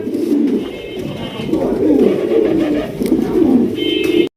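Jharna satin pigeons coo steadily in a low, throaty rolling rhythm, several overlapping calls close by and fairly loud, with faint chirps above and no talk.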